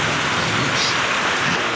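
Heavy rain from a passing storm pours down as a dense, even hiss, loud and continuous, with no voices over it.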